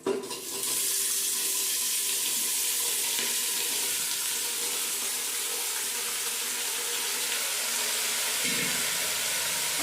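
Potatoes and cauliflower fry in ginger-garlic paste in a pan with a steady, loud, even sizzle and hiss that runs unbroken for about ten seconds. No one speaks.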